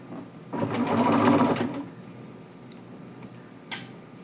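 A sewing machine stitches a cuff onto a pant leg at a 5/8 inch seam allowance, a close steady whirring run of about a second, then stopping, followed by a brief small click.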